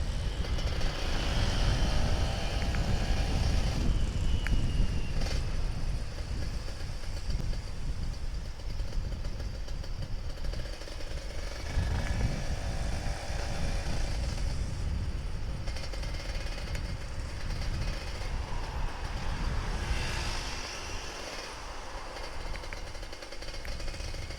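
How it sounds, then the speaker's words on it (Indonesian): Old Kawasaki Ninja RR 150 two-stroke motorcycle engine warming up, a steady close idle with a rough, rattling buzz that wavers slightly in level and runs on throughout with no talk. "Sekalian harus dipanasin ini Ninja."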